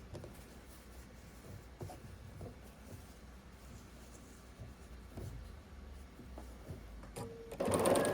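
A sewing machine joins quilt pieces in a quiet, steady run of stitching, with a few faint knocks and a louder burst of handling at the very end.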